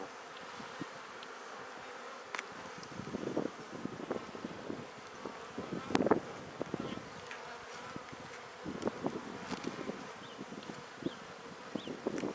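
Bees hum around an open beehive standing in full sun during a first inspection after a colony split, a faint, continuous buzzing with scattered close passes and light wind rumble.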